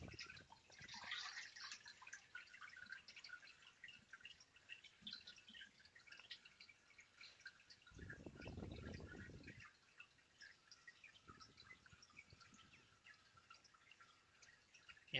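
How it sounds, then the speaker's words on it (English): Water drips and trickles slowly through a 3D-printed papermaking mold holding paper pulp, faint and patchy, with one brief louder pour or splash burst midway. "the water goes through much more slowly because there is too much flat surface here that doesn't allow for the water to go through."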